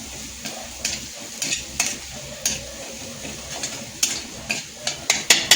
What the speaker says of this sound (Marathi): आता याला चांगला आपण परतून घेऊया.